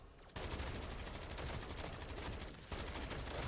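Rapid automatic gunfire in Call of Duty MW3 Zombies, a dense, loud burst of shots that keeps rattling for most of the moment with a brief gap near the end before resuming.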